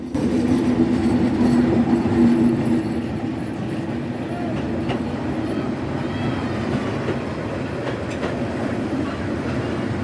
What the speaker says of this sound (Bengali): দেখা হয়ে গেল দেওয়ানগঞ্জ বাজার থেকে ছেড়ে আসা ঢাকা অভিমুখী আটচল্লিশ দেওয়ানগঞ্জ কমিউটারের